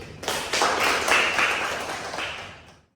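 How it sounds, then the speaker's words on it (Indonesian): Students applaud a classmate during a lecture on patient and workplace safety, a short burst of brisk clapping from a small group nearby that swells quickly and then fades out over about two seconds. "Tepuk tangan dulu."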